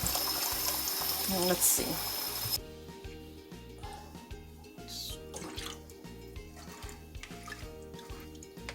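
Brown rice is rinsed under running water in a kitchen, a close, steady splash and trickle that is loud at first and then settles into softer pouring and swirling, with a voice briefly speaking.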